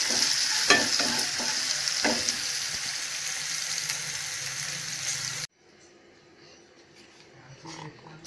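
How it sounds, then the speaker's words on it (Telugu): Okra fry seasoned with garam masala and turmeric being stirred in a pan, giving a steady close sizzle with scraping stir strokes for about five seconds before the sound drops to faint clinks. "గరం మసాలా, పసుపు, వేసి ఇంకొకసారి కలిపి"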